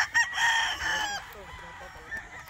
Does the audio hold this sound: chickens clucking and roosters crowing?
yes